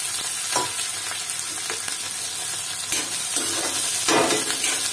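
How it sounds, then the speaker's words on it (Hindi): Onions and green chilies fry with garlic in a pan, giving a steady, loud sizzle with occasional stirring scrapes throughout. "हरी मिर्ची और प्याज को साथ में अच्छे से लहसुन के साथ में अच्छे से भून लेंगे।"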